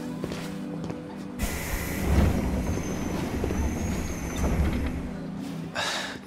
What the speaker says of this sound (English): They got on the train.